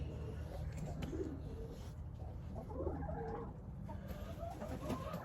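Chickens cluck and murmur softly at a moderate distance over a low background hum, scattered calls overlapping throughout.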